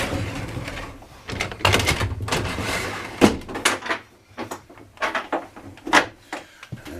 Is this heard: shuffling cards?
no